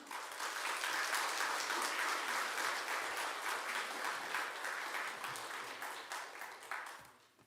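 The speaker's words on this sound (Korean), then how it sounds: "우리 선교사님 나오실 때 큰 박수로 한번 환영하시면 좋겠습니다" A church congregation gives warm, sustained applause to welcome a missionary at a Sunday service, many hands clapping in a continuous wash that stays even and then tapers off at the end.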